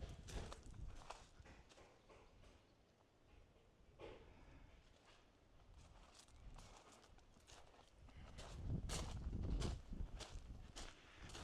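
A horse walks on a Tuscan wine estate, its hooves clip-clopping in a steady, moderately close rhythm over quiet outdoor ambience. The steps grow louder and heavier toward the end.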